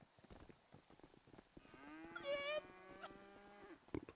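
Cow mooing in the Homestate video game, one long drawn-out moo in the middle amid quieter clicks and scattered background noise.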